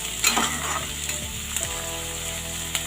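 Onions and tomatoes fry in a pan for besan gatte curry, producing a loud, continuous sizzle close by, broken by brief scraping stirs of a spoon and a faint steady hum underneath.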